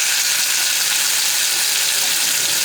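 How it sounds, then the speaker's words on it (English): Marinated pearl spot fish, karimeen, frying in hot oil over a medium flame, a loud, steady, hissing sizzle that stays even throughout without pause. "Now we are gonna place the marinated fish here. This is pearl spot fish. It's known as karimeen. So here goes the fish."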